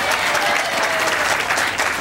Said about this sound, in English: now I want to have audience applause